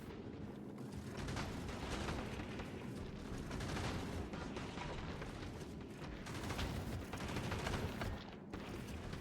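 Automated turrets in the video game Factorio fire continuously at enemies, a dense sustained rattle of gunfire and mechanical noise that holds steady throughout without voices.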